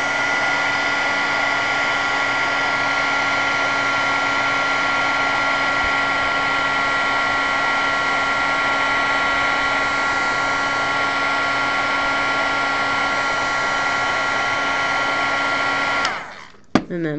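Heat tool heat-setting wet Inca Gold paint on chipboard: a loud, steady close whirring blower with a constant tonal hum, running unchanged before cutting off with a clunk at the end.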